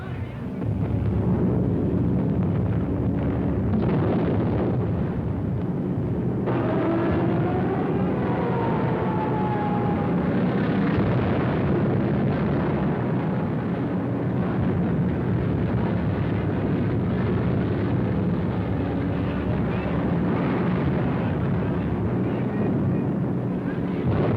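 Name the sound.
aerial bombing raid explosions and aircraft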